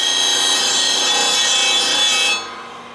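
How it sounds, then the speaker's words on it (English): A 16-inch Apex disc sander grinds steadily against wood with a loud, continuous rasping whir, then the contact ends abruptly near the close and only a softer machine hum remains. "Here's Apex disc sander, 16-inch. Simple, walk up to it, turn it on."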